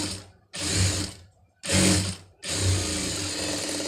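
An electric sewing machine runs in three short bursts while stitching a tailoring strip, each run a steady, close mechanical whir separated by brief pauses.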